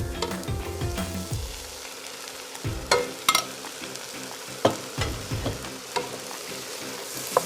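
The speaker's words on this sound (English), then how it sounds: "Give it a quick stir to incorporate everything." Rinsed, drained canned Great Northern beans are stirred in a soup pot with sausage. Irregular spoon scrapes and wet, thick rustling come close and fairly quiet, with no talking.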